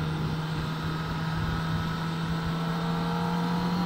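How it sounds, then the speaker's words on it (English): An idling motorcycle exhaust hums steadily with a low, even drone and faint rumble, close by and unchanging throughout. "It's not a bad sounding exhaust."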